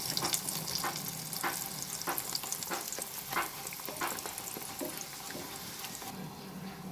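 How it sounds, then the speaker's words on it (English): Green peas puri deep-frying in hot oil, a steady close sizzle and crackle with occasional stirring clinks and bubbling bursts throughout, no talking. "So now this puri is fried perfectly."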